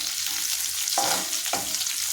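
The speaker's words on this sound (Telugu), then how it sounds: "ఇలాగా నెమ్మదిగా 2 నిమిషాలు వేయించుకుందాం" Ivy gourd and kabuli chana sizzle steadily in hot oil in a pan, with two distinct stirring scrapes partway through and no voices.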